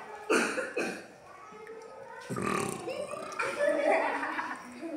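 A child imitates a lion's roar with a few rough, growling bursts and throaty huffs, close to the listener, uneven and breathy.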